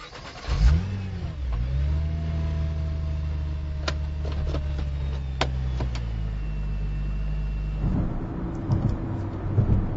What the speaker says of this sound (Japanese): GTR で、高速道路へ入ってきました